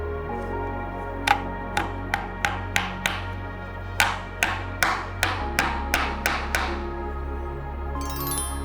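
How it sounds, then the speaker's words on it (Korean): A wooden mallet taps wood about fourteen times in a steady, sharp rhythm, each knock crisp and close over a low background hum, while making a traditional Korean small wooden tray. "나무 망치나 망치로 가볍게 두드려주고"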